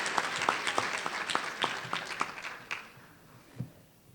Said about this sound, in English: Let's give them another round of applause for their dedication and commitment to Newport News